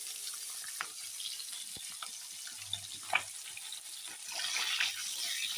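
Tangra fish frying in hot oil, a soft steady sizzle running throughout with a few brief clicks and a slightly louder hiss toward the end, heard alone without talk.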